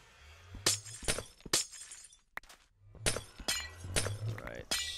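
Glass blocks breaking in Minecraft, a run of crisp shattering crunches in uneven bursts, close and prominent, with brief low voice sounds between some breaks.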